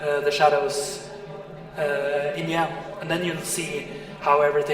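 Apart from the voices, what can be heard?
No everyday noises stand out.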